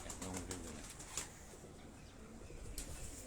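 High-flying pigeons kept at a breeder's house in Karachi give soft, faint coos amid quiet background rustle and a few light ticks.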